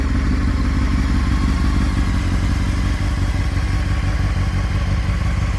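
A 2005 Honda CBR F4i motorcycle engine idles steadily up close, a continuous loud rumble with a faint mechanical clatter and no voices.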